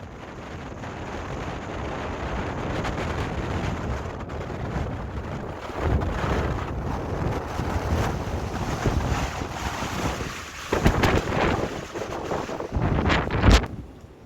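Storm-force gales from Storm Ciara and Storm Dennis roar across a harbour where a yacht and other boats are moored, with constant heavy wind buffeting, crashing waves and louder gusts toward the end.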